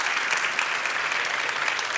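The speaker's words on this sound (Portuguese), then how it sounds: "uma grande salva de palmas para a grande, enorme Catarina Barreiros" A crowd at an education, diversity and inclusion event gives a big round of applause for the event's lead organizer, a steady, even wash of clapping with no voices over it.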